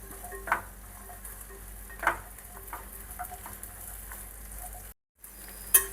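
Okra curry stirred in a pan, with a few sharp spatula scrapes and taps spaced irregularly over a soft low sizzle, and a brief dropout near the end.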